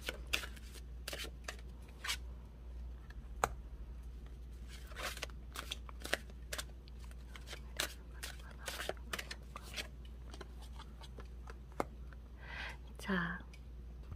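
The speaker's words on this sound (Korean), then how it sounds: "이 카드의 의미에 대한 카드를 먼저 조금 더 뽑아보도록 할게요" Tarot cards being drawn and shuffled in a quiet room: a long series of short, crisp papery slaps and riffles, some in quick bursts and others spaced apart, with a brief soft whisper-like swish near the end.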